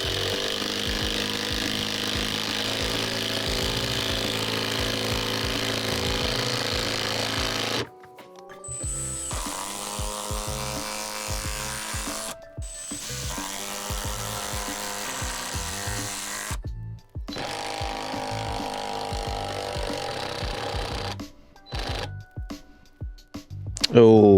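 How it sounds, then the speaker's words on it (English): A cheap TEMU power driver drives a bolt into a piece of wood again and again, with long, loud grinding whirs broken by short pauses, while a person speaks over the noise. "I'm going to drive this bolt into this piece of wood as many times as I can"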